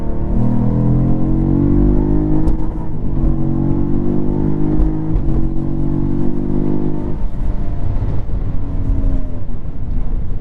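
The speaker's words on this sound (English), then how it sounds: "the exhaust basically gets like a machine gun" A loud 2022 Cadillac CT4-V Blackwing engine revs hard nearby, its exhaust crackling with irregular sharp pops over the deep roar.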